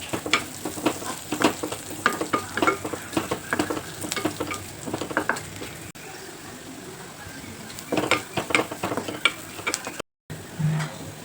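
Onion sautéing with turmeric, red chili and salt in a hot pan crackles steadily while a spoon scrapes and stirs in bursts, with a short quieter stretch midway.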